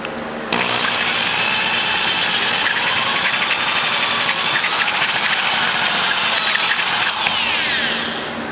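A power grinder runs continuously at a loud, high whine as it cuts into the aluminum port of a ProComp 190cc cylinder head, starting abruptly and holding steady before tapering slightly at the end.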